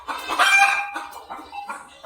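Hen on a Marathi mixed farm giving a series of clucks and throaty calls, near and fairly loud, in irregular bursts with short pauses between.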